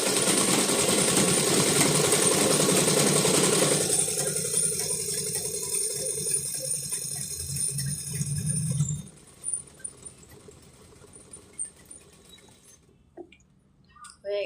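A sewing machine stitches a dress with a steady, loud mechanical whir for about nine seconds, then stops and leaves quieter room sounds.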